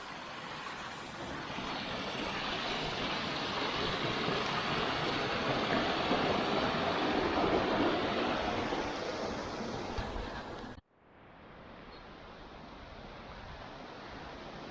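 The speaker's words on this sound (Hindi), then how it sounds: "एक बहुत अच्छा वाटरफॉल, एक झरना जैसा आ गया छोटा सा" A small waterfall on a stream pours in a steady, broadband rush that holds constant for about eleven seconds, then drops abruptly to a quieter, more muffled rush for the remainder.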